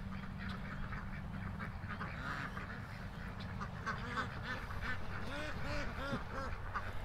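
Ducks quack repeatedly and busily, several birds close by calling over one another in a steady, noisy chorus.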